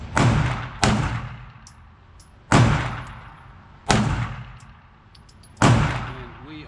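A CZ Shadow 2 SAO pistol fires five sharp, loud shots close by at uneven intervals of about one to two seconds, each with a short echoing decay.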